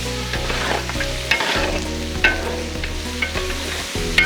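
Mutton frying on high flame in a pan for a Mughlai curry, a steady loud sizzle broken by stirring scrapes and clatters, with no voices.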